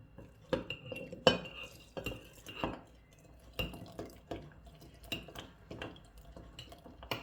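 A spoon stirs water into rye sourdough starter in a glass jar, giving irregular clinks and scraping knocks against the glass, close and fairly quiet, with no talking.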